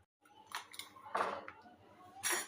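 Cooked sago pearls are strained into a metal vessel, producing a few faint, brief metallic clinks and soft knocks of utensils against the pot in a quiet kitchen.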